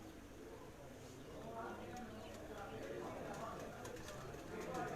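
Pigeons coo at a rooftop loft, soft and at middle distance, under outdoor ambience with someone talking over them. Faint clicks and flutters come and go.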